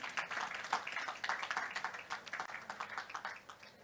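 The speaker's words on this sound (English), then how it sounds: "Can we give him a round of applause once more?" An audience at an architecture lecture event in Lagos applauds steadily, a moderate patter of many hands clapping for a few seconds at a fairly low level, without speech.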